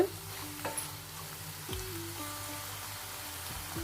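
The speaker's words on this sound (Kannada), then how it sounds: "ಈ ರೀತಿ ಒಗ್ಗರಣೆಯಲ್ಲಿ ಫ್ರೈ ಮಾಡ್ಕೊಳ್ಳಿ" Steady sizzling of a tempering frying in hot oil for fenugreek-leaf dal, with a few clinks of a utensil stirring; close and fairly quiet, no voices.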